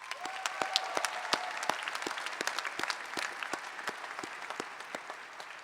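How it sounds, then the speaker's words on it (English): Scattered applause from a university commencement audience, moderately faint, with distinct individual claps spread across the crowd in an uneven patter. "please take this time to give them a warm round of applause again"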